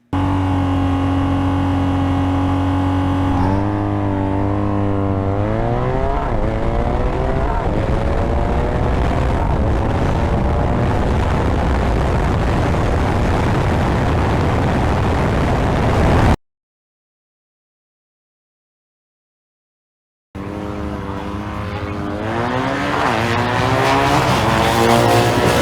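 BMW R nineT motorcycle at a drag strip, a loud continuous engine roar rising in pitch through successive gear changes, cutting out to silence for several seconds before a second run builds again.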